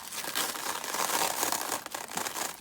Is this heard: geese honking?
no